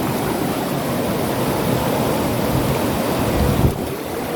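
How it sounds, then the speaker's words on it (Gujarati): Canal water flows in a continuous, rushing wash, loud and close, with no voices and only a slight dip near the end. "આ પાણી આવી રહ્યું છે આ બાજુ પાણી"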